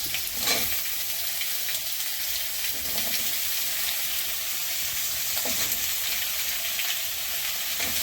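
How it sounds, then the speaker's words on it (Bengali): Pumpkin and potato fry in a pan with a constant bright sizzle, and a few soft stirring scrapes come through at intervals. No one speaks. "কুমড়ো আলুর তরকারিটা করছি কারণ কারণ কুমড়োটা নষ্ট হয়ে যাবে কুমড়ো আলুটা দিয়ে দিই এবার"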